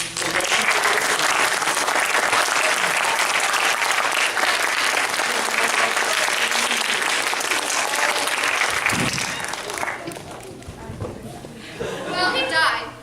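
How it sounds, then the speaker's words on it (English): Audience at a live comedy show clapping hard in a dense, sustained burst of applause that continues for about nine seconds, then thins out into scattered claps and murmurs near the end. "If you clap hard enough, Hansel here will live."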